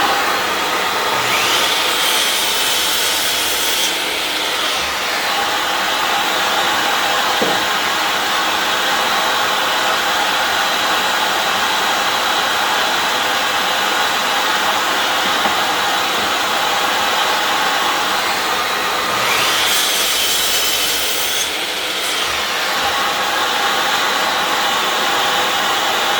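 A power saw cutting wood for a dart holder, a steady loud whine running throughout, with two brighter surges where the blade bites into the workpiece.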